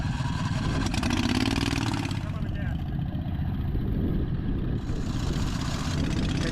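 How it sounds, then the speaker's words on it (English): An adult-size off-road dune buggy go-kart with push-button start, driven on desert trails near Las Vegas, gives a steady, close engine drone that holds without a break from start to end. "experience the fun of driving in an adult supersized off-road go-kart"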